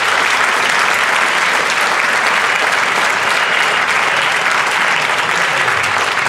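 Steady, loud applause from a school concert audience for cadet and concert bands, continuous dense clapping throughout with no talk over it.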